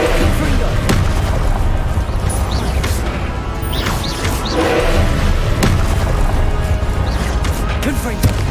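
Booming blasts from the Confringo spell in Hogwarts Legacy hit repeatedly amid continuous game noise, loud and close, with a voice speaking between the impacts.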